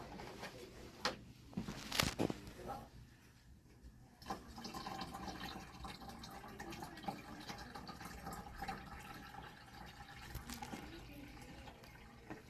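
Distilled water pours steadily into an autoclave reservoir, a continuous close splashing fill with a few louder gurgles near the start and no talking.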